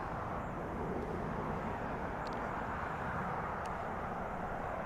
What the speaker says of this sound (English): next arrival on A321 Delta Airlines coming into land